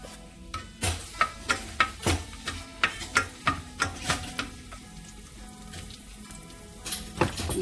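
Garlic sizzling in a pan while cooking pinakbet, with repeated rhythmic stirring scrapes about every half second over a steady frying hiss, close and moderately loud.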